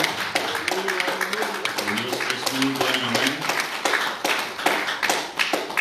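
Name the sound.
congregation applause in church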